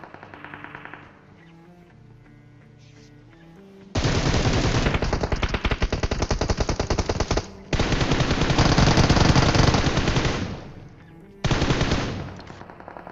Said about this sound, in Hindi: लेकिन तुम अगर ये फायरिंग साउंड सुन पा रहे हो तो पहाड़ की तरफ भी बंदे आ चुके हैं।